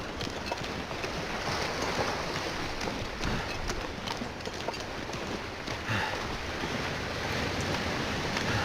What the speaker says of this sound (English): it is windy, windy, windy.